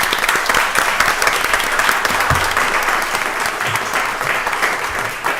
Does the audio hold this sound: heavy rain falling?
no